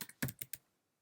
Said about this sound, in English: I'm just going to type in Concrete Wave magazine.